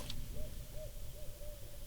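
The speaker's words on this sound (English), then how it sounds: "It's definitely the earliest I've ever heard an owl." An owl hoots repeatedly in a dark, tree-shaded forest in the middle of the afternoon, a series of soft, wavering calls rising and falling at a steady pace over a low ambient rumble.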